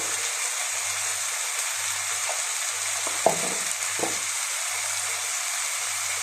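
Chicken frying in masala for biryani gives a loud, even hiss and crackle close by, with a couple of brief utensil clinks and stirring scrapes around the middle and a low hum pulsing beneath.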